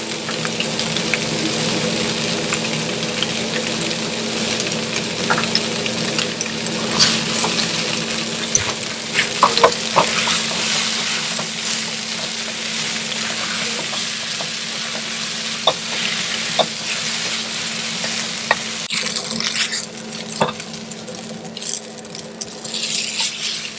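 Chow mein noodles stir-fried with garlic salt and ginger until burnt and crispy, a continuous close sizzle with scattered clicks and scrapes of stirring throughout.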